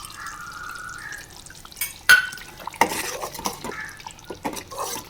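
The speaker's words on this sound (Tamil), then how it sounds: "அந்த ஸ்டேஜில் சுண்டை வத்தல் எண்ணெயில் போட்டு வறுத்து வச்சுருக்கேன். இதை உள்ளே சேர்த்துருவோம்." Fried dried turkey berries are tipped into a simmering tamarind vatha kuzhambu, giving soft drips and wet stirring with a few sharp spoon taps against the pot, fairly quiet throughout.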